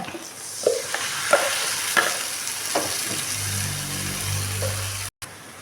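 Ground tomato and onion masala paste frying in a pan for bitter gourd tamarind kuzhambu, a steady hissing sizzle with a few distinct spoon knocks and a low hum entering midway before a brief cut.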